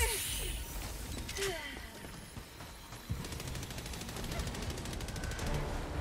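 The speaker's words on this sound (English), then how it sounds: "I'm going to start opening fire" Gunfire in the game Helldivers 2: a dense run of rapid automatic shots under layered battle noise, with short bursts early and a sustained rattling stream in the second half, loud and close.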